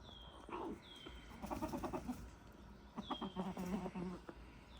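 Backyard chickens cluck and chatter in short bursts, with a rooster among them and a couple of brief high chirps, moderately close against a quiet outdoor background.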